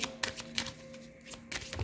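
A deck of tarot cards being shuffled by hand gives quick bursts of riffling and soft slaps at an irregular rhythm, close and fairly quiet, with no talk.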